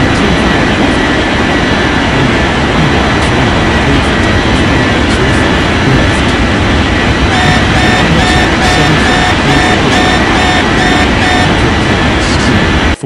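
Jet airliners roar as they take off at a busy international airport in an air traffic control game, a loud, steady engine rumble and whine that fills the whole stretch without pause.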